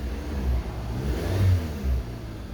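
A 2013 Dodge Avenger engine, just after a throttle body cleaning, revs up and down unevenly, its close, mid-pitched drone surging in a few swells as the RPM wanders rather than holding steady.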